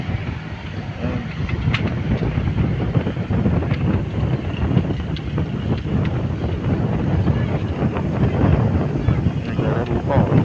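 Strong seaside wind buffeting the microphone during a pigeon release, a continuous low roar with gusts, while people talk intermittently underneath.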